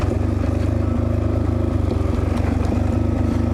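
A Suzuki DRZ 400 motorcycle engine idles steadily nearby with a loud, low, even thump. The tone holds throughout with no revving or pauses.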